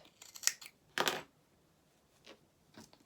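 Scissors snip fabric while sewing a fox head for a doll: a few quiet, close, crisp cuts in short bursts, with no talking.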